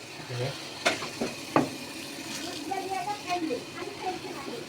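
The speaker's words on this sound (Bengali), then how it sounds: "এখন আমি এখানে মাংসগুলো দিয়ে দেবো" Meat goes into a pot of fried spice masala with a sizzle, followed by scraping and stirring with clinks of a utensil against the pot, while a person talks over it.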